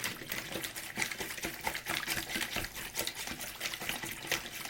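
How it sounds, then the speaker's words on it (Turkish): A spoon stirs salt into water for pepper pickle brine, making quick rhythmic clinks and swishes against the container, close and continuous. "Bir yemek kaşığı tuzumu atıyorum. Ve iyice karıştırıyorum."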